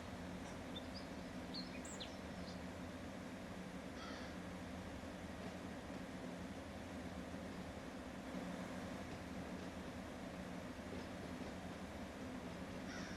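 Train cars being coupled and shoved in the Run 8 Train Simulator video game: a steady low rolling rumble with a few faint metallic clanks, while crows caw now and then.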